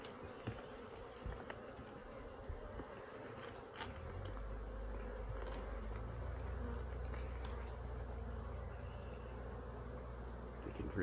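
Honeybees buzz inside an opened hive while a beekeeper works with burlap and wood-pellet smoke, a steady dense hum that thickens and grows louder partway through, with brief handling knocks and faint talk.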